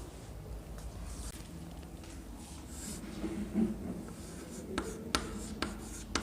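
Pen scratching on paper in quiet short strokes, faint and close, with a few sharper taps near the end.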